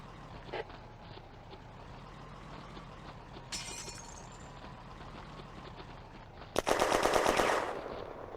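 Gunfire in a WWII video-game battle between French tanks and infantry and Germans at the Bléneau railway station in June 1940, with scattered distant shots before a loud, rapid machine-gun burst near the end.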